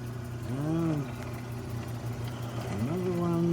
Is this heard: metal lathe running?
yes